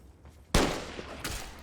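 A single loud gunshot in modded Skyrim Special Edition cracks out sharply after a quiet stretch, leaves a long decaying tail, and is followed by a second, softer burst about a second later.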